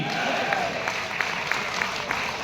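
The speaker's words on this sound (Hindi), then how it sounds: "मेरी होशियारी के लिए तालियां बजाना बस्ती वालों।" Moderate applause from listeners at a Hindi kavi sammelan poetry stage, a continuous wash of clapping with a few sharper claps poking through, fairly even throughout.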